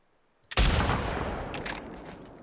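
A single booming sniper rifle shot in The Last of Us Part II, sharp and loud, with a long rumbling tail that fades out.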